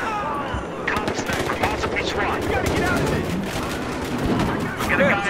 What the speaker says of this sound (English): Somebody's shooting my back!